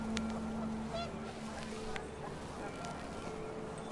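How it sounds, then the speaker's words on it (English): Panicked geese honk in a short flurry outdoors, fairly faint and distant over steady wind. "panicked geese appeared and quickly went"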